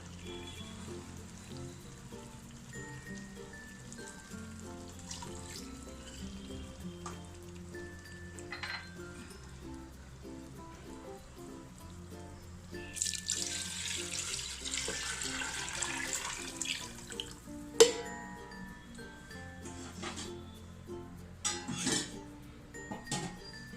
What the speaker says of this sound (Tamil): அந்த தண்ணி ஊற்றிடலாம்